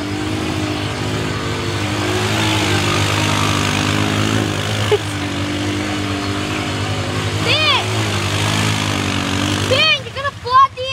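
Off-road vehicle engine droning and revving steadily as it spins donuts in mud after rain, a continuous mid-distance rumble with brief surges, with people talking over it throughout.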